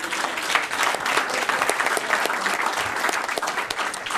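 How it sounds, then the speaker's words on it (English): Audience at a Franklin Township, New Jersey council meeting applauds steadily and fairly loud, a dense wash of many hands clapping that holds for the full few seconds with no talk over it. "she deserves a round of applause"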